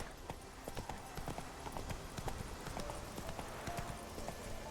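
Roach the horse gallops in The Witcher 3: Wild Hunt, rapid rhythmic hoofbeats pounding steadily and fairly faintly over a continuous outdoor bed.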